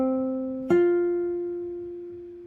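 Classical guitar sounding an interval: one sustained note, then a second plucked note joins and rings on with the first, both fading slowly, close and clear with no voices.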